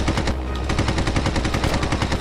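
Rapid, sustained machine-gun fire from an aircraft in the aerial combat game Red Wings: Aces of the Sky, loud and continuous bursts with a steady rattling rhythm and no talking.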